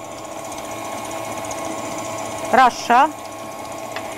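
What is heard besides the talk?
electric mixer whipping egg whites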